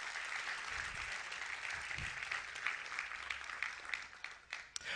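A church congregation applauds steadily during a sermon, a dense, even wash of clapping from a crowd at moderate distance with a few low thumps beneath it.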